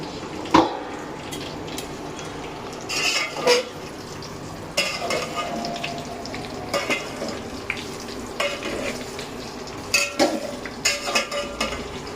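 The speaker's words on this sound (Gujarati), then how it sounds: "પછી આપણાના હલાવી નાખવાનું છે મસ્ત મસ્ત મિક્સ કરી દેવાનું" Patra batter being stirred and mixed in a pot, with scattered scraping and clinking of a utensil against the vessel over a soft sizzling background, no talk.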